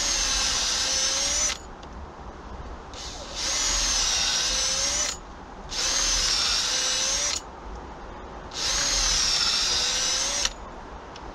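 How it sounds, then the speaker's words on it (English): A power drill boring holes in wood, with four loud high whining bursts separated by brief lower pauses where the motor eases off. "the reason why we're drilling these holes is so the wood doesn't split"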